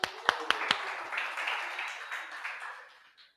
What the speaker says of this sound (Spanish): Un aplauso para mi chinita